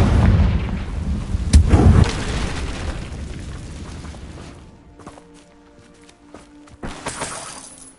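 A Confringo fire spell goes off in Hogwarts Legacy as a booming, shattering explosion, loud and close, with rumbling debris trailing off and a few sharper impacts afterward.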